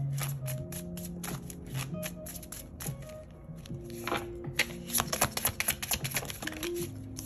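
Tarot cards shuffled close up, a flurry of rapid papery riffles and taps building to a dense burst, with soft musical tones lingering underneath.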